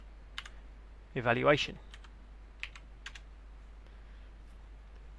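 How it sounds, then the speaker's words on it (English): Computer keyboard typing while entering a search in a Google Chrome browser on Windows, a few quiet scattered key clicks around a brief spoken word in a quiet room. "in here we will type in Windows"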